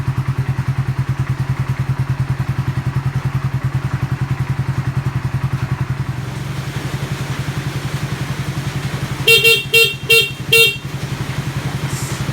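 A Raider 150 Fi motorcycle engine idles with a steady throbbing putter, then its horn beeps four short times in quick succession, loud and close.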